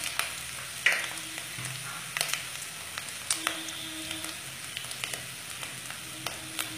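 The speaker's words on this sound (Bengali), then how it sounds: "মশলা যাতে পুড়ে না যায় সামান্য জল দিয়ে কষবো।" Spices with cumin powder sautéing in a pan for a cabbage and rohu fish head dish, a soft steady sizzle with occasional faint stirring taps, fairly quiet and without talk.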